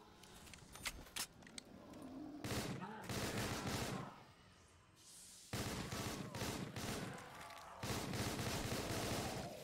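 Video game gunfire, dense rapid bursts of shots in several stretches separated by quieter gaps, loud and close with a cluttered mix of game effects.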